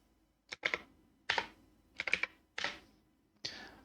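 Python code being typed on a computer keyboard, five short bursts of rapid key clicks separated by brief pauses, close and fairly quiet.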